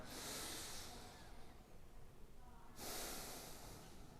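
Deep breaths during a golf stretching routine, drawn in and let out through the nose: two long, airy hissing breaths close to the mic, separated by a short quieter pause.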